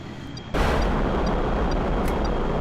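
A HARM missile launches in Kerbal Space Program with an abrupt loud onset, then a continuous roaring rush of motor noise, while faint periodic beeps tick in the background.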